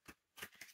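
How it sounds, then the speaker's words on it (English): Three brisk bursts of cards riffling and snapping together, close and fairly quiet, with short pauses between them. "I'm going to shuffle the cards."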